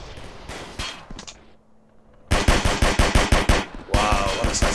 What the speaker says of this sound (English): Wow, what a satisfying gunfire, man.